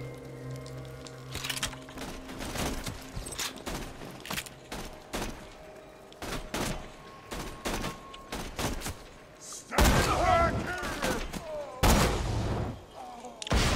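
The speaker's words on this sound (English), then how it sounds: "New sniper rifle is pretty good." Sniper rifle fire in the shooter game Borderlands 2, a string of sharp loud cracks at uneven intervals with game effects and bursts of noise between shots, no talking.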